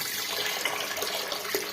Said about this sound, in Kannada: ಬೇಳೆ ಮುಳುಗುವಷ್ಟು ನೀರು ಸೇರಿಸ್ಕೊಳ್ಳೋಣ